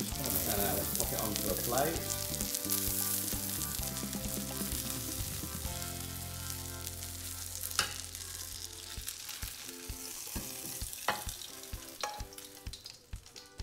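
A cheese omelette frying in a pan: a continuous soft sizzle and crackle running throughout, fairly quiet and close, with a few small clicks and a brief bit of speech.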